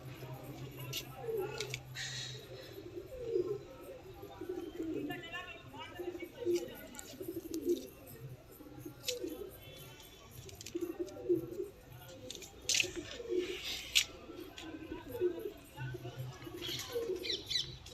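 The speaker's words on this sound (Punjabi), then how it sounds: "ਟੈਡੀ ਕਬੂਤਰ ਲੈ ਗਿਆ ਜੀ ਤੁਹਾਨੂੰ ਸ਼ੌਂਕ ਕਰਾਉਣ ਲੱਗੇ ਆ ਜੀ" Teddy pigeons with white eyes coo in repeated soft, rolling phrases close by, alongside scattered wing flutters and rustling, while someone talks over them.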